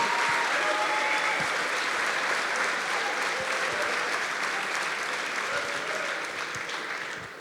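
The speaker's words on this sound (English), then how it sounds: "So a round of applause for our champions." An audience at an athletic awards ceremony applauds its champion basketball and baseball teams, a full, steady wave of clapping that slowly tapers toward the end.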